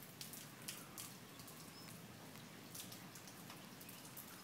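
Rain falls in New Zealand, a dense steady patter of drops on surfaces with occasional louder splashes, fairly close, with no voices.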